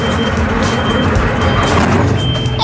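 Reversing beeps from a toy garbage smash truck backing up, a steady high tone repeating over a dense mechanical hum that runs the whole time.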